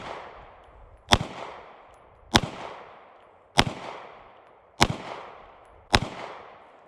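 Handgun shots at an outdoor shooting range, five loud sharp reports spaced about 1.2 seconds apart, each with a short decaying echo tail, no talking.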